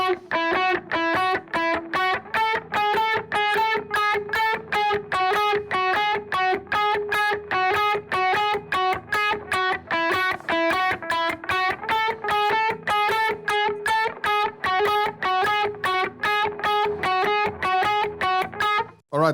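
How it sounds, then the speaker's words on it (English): An electric guitar plays a modern worship part, bouncing between two notes in a syncopated pattern through a delay effect. Its quick repeating plucked notes echo into a dense, steady rhythmic pulse that is close and continuous, with no talking. "there's a fun interplay between the delay as I'm playing this fairly syncopated pattern"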